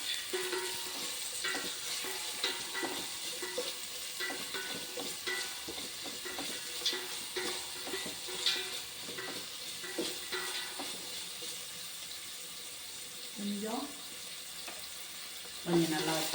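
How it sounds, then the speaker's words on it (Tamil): Onions sautéing in a pan with ginger and garlic, a soft, steady sizzle with scattered stirring scrapes and clinks, fairly faint. "வெங்காயம் நல்லா வதங்கணும்."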